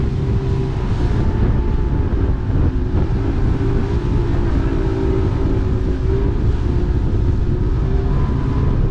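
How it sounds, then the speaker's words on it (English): A racing boat with a 150 two-stroke outboard engine runs at the West Coast, a loud continuous engine drone mixed with heavy wind buffeting on the microphone and surging water. "all it has is a 150 two-stroke, and I think it runs pretty good for the size of horsepower that it has"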